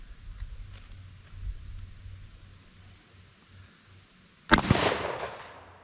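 A Mossberg 185K 20 gauge bolt-action shotgun with an improved cylinder choke fires a single 7.5 shot load outdoors, one sharp loud blast with a short echoing decay after several seconds of quiet insect chirping.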